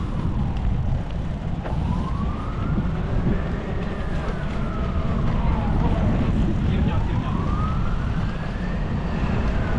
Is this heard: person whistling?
no